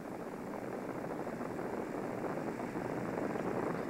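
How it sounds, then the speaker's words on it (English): A Spacewalker light aircraft in flight produces a steady, even propeller-engine drone with a broad noisy hum, distant and moderately loud, holding constant without talk. "From the ground or from the air, the spacewalkers are truly beautiful aircraft."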